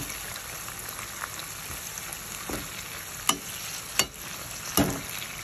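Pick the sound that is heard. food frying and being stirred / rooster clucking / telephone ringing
food frying and being stirred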